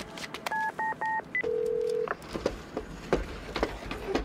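A telephone in the video game As Dusk Falls, set in a desert motel, gives a few short electronic ring tones, then a longer tone, followed by scattered knocks and bumps.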